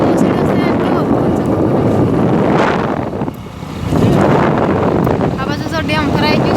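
Strong wind buffeting outdoors in steady rain beside cotton fields and a small hut, loud and continuous with a brief lull midway, and a voice speaking over it.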